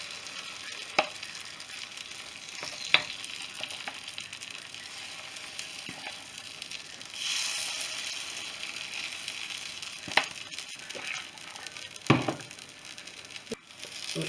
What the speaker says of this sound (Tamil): அப்படியே இந்த பணியாரத்தை ஊற்றிடலாம்.